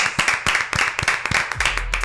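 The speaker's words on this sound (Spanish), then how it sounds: "Un aplauso." Clapping from a small audience on a Spanish-language talk show, a quick irregular burst of sharp claps, fairly close, with a low hum entering near the end.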